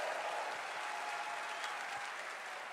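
Large crowd at the Summer Game Fest 2025 showcase applauds Hideo Kojima, a dense, steady wash of clapping from a big audience heard at a distance throughout.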